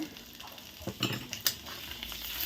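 A spoon stirs cumin and ginger paste in a cooking pan, giving a few soft scrapes and metallic clinks over a faint sizzle, close and fairly quiet, with no talking.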